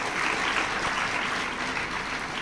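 An audience in a spiritual discourse setting applauds, a dense, steady wash of many hands clapping at close range that holds at even loudness throughout.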